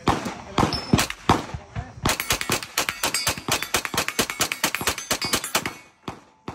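CZ pistols fire in rapid, sharp shots, a few spaced reports at first and then a fast, almost continuous string of cracks, loud and close, with voices heard among the shots.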